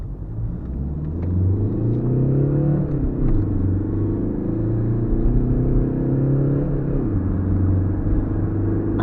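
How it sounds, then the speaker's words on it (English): A car accelerating hard on a night drive, its engine rumbling loud and steady with rising revving tones that climb and shift as it gains speed, no talk over it. "the acceleration on this car is phenomenal"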